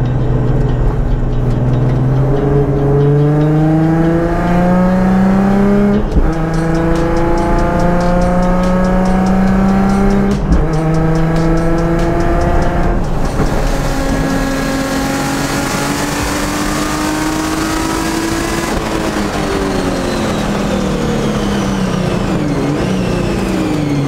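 A supercharged Nissan 350Z racing on a track, its engine loud and close throughout, rising and falling through repeated revs and gear changes with a steady supercharger whine.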